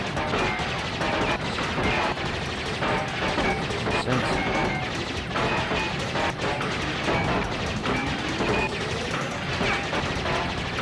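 Missiles and constant metallic clanging fill a level of Crash Bandicoot 3, a dense, loud barrage of crashes and rapid mechanical hits running throughout, with someone speaking briefly over the din.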